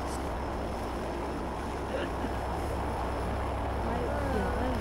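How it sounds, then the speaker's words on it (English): A loud, steady roar of an airplane engine in a video game fills the whole stretch at constant level, a dense droning drone without pauses. "The plane is so damn loud."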